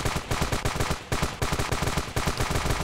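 Rapid automatic gunfire from the Ravenfield video game, loud and close, with dense bursts of shots in quick succession and only brief pauses between them.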